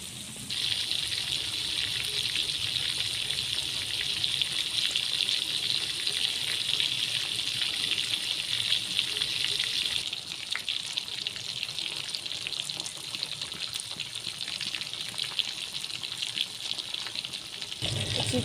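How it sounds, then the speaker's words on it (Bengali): Chicken pieces deep-frying in hot oil for a crispy Bengali-style chicken fry, a steady loud bubbling sizzle that runs throughout and eases slightly partway through, with no talk. "চিকেন ফ্রাইগুলো কিন্তু অলরেডি ভাজা হয়ে গেছে"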